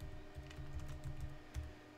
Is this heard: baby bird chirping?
no